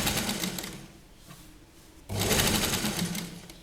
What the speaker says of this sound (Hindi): और मशीन थोड़ी धीरे धीरे आराम आराम से चलाइए।